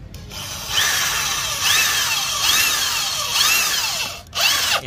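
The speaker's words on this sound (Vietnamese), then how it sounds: "Đây chuyển bê tông chuyển qua khoan sắt anh chị nha." A Dekton DK-710B electric drill bores into steel in drill mode at slow speed, making a loud, steady whine that rises and falls through several pulses and stops briefly near the end.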